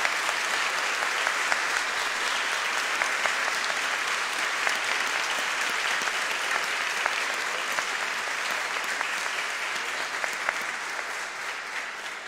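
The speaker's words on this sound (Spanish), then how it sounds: "Todos los aplausos para Jesús" Sustained applause from a church congregation at a Catholic Mass celebrating a priest's twelfth anniversary, dense and steady throughout with no voices standing out.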